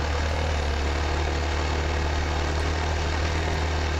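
A motorcycle engine idles with a steady low rumble and continuous wind-like hiss, unchanging throughout, recorded up close.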